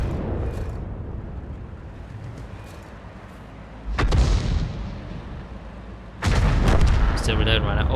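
Artillery gun firing in World of Tanks, two heavy booming shots a couple of seconds apart, loud and close, each leaving a rumbling tail, with a voice talking in the background.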